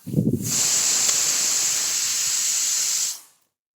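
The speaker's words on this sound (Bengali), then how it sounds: "কি টাইমিং, আমিও বললাম সিটিটাও পড়লো" A pressure cooker cooking moong dal lets off one loud, sustained hissing whistle of steam that holds steady for about two and a half seconds, then cuts off abruptly.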